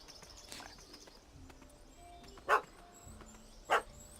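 A dog in The Witcher 3 video game gives two sharp, separate barks a little over a second apart, set against a quiet game ambience with a soft background hum and no talking.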